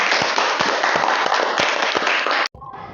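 Students in a classroom break into dense, loud applause that fills the room for about two and a half seconds, then cuts off abruptly into quieter room sound.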